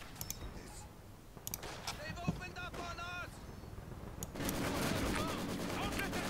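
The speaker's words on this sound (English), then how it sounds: "Machine gun fire" Machine gun fire in the World War II strategy game Company of Heroes during a 3v3 match with Soviets, rapid bursts rattling beneath voices and game noise, swelling into a denser barrage toward the end.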